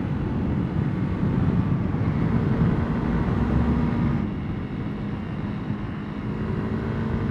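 A 300cc dual sport motorcycle accelerating at full throttle through a yellow light, its engine drone a steady, loud roar mixed with wind rush throughout, easing slightly in level partway through.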